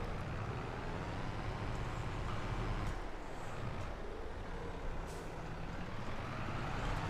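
A truck in the Farming Simulator 22 video game: a steady, dense diesel engine rumble runs throughout, with brief sharp hissing bursts from the air brake.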